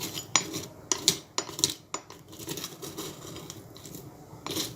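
Crunchy homemade granola shaken and rattling inside a jar, giving a handful of sharp clinking, rustling bursts with quieter gaps between, close and fairly faint.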